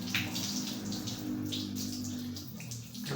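Water splashes and runs steadily from a hose for an outdoor cold-water bath, a close, continuous gush with a few spattering drops.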